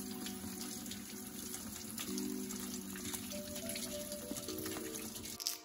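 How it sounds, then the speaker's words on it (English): Tap water runs steadily into a sink while raw shrimp are washed, a soft, continuous trickle and splash heard close but faint, with no talking. "We're starting off by washing the shrimp."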